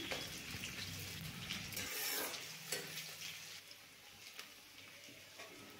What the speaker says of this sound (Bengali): ওই তেলে পেঁয়াজ, কাঁচা লঙ্কা ভালোভাবে ভেজে নিচ্ছি